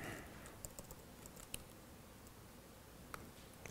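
Quiet typing on a computer keyboard: scattered key clicks, faint and close, with a few sharper taps spaced irregularly.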